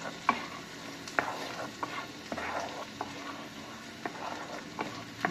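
Garlic sizzles and crackles in a frying pan while being stirred, with a steady hiss broken by a series of sharp scraping clacks of the utensil against the pan at irregular intervals.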